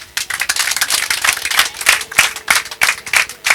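An audience at a gathering in Gisenyi, Rwanda, claps in a lively, rhythmic burst of many hands, close and loud, with uneven accents throughout.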